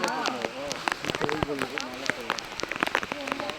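Steady rain pours onto dark stone at a temple site, a dense hiss with scattered sharper drops throughout, and a person talks over it close by.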